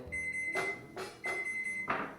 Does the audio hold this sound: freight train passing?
no